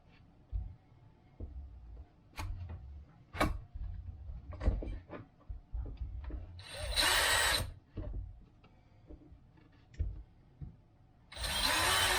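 A cordless electric screwdriver drives a screw into an LC Racing EMB-T 1/14 RC car kit's front end. Short whirring bursts alternate with clicks and handling noises up close, and two louder, harsher buzzes stand out near the middle and end.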